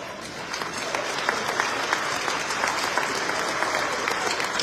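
A banquet audience at a foundation event in Atlantic City applauds steadily, dense even clapping from a large room that holds for the whole stretch with faint voices underneath.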